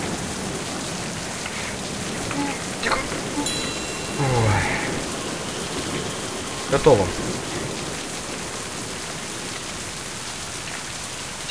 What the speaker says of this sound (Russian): Пошел дождь.